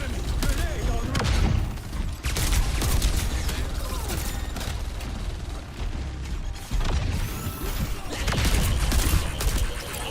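Overwatch match action with a grenade blast and bursts of gunfire, loud and dense throughout with sharp crashes near 2 s and 7 s, layered under continuous game noise and talking.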